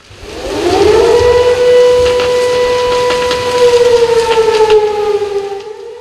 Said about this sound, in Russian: Сирена означает минутную готовность.